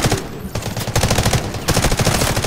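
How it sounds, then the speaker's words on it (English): Light machine gun in the Delta Force game firing long, rapid sustained bursts up close and loud, rattling almost without pause apart from brief breaks between strings. "There's a dude that's prone in the middle of people's bodies just unloading with a fucking light machine gun."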